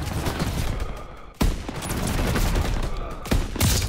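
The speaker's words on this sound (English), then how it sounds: "Shooting at me." Dense gunfire from the Call of Duty WWII campaign, a steady fusillade of rapid shots with a couple of sharp louder bursts, close and continuous throughout.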